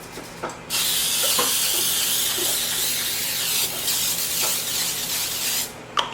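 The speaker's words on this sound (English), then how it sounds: "We are just going to spray it with the Baker's Joy spray." A steady aerosol spray of Baker's Joy baking spray onto a baking sheet hisses continuously for several seconds, close and loud, with a few light clicks at the start and end.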